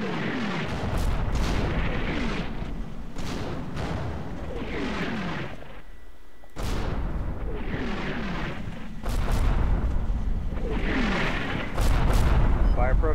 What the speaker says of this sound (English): Love the artillery coming down.